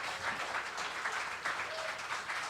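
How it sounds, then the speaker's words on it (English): Light, scattered clapping from a small audience at a hockey press conference introducing a new head coach, heard quiet and somewhat distant. "And you can clap right now because that's exciting"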